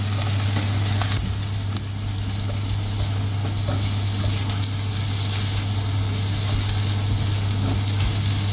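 Whole black peppercorns and cumin seeds roasting in a pan for Lahori black pepper chickpeas, a loud, continuous close sizzle and crackle with a constant low hum underneath, no voices.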